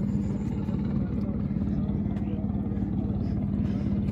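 Motorboat on the Jamuna river near Kakua Union, Tangail, its engine a steady low drone throughout, fairly close, with a voice talking over it.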